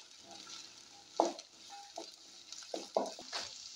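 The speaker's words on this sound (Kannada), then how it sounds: "ಹಾಗೆ ಸ್ವಲ್ಪ ಎಲೆಕೋಸು ಎಲ್ಲನೂ ಹಾಕ್ಬಿಟ್ಟು ಚೆನ್ನಾಗಿ ಒಂದು ಬಾರಿ ಮಿಕ್ಸ್ ಮಾಡ್ಕೊಳ್ಳೋಣ." Carrot, capsicum and cabbage stirred together as they fry for egg fried rice, a soft background sizzle broken by several scraping spatula strokes and light clinks against the pan, close and quiet with no voice.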